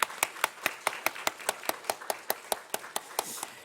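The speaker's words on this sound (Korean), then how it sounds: "우리 마음을 모아서 한번 다 같이 박수로 한번 격려하시겠습니다" A church congregation claps together in encouragement during a Sunday morning service, sharp even claps in a steady unison rhythm of roughly five per second, fairly close and continuous.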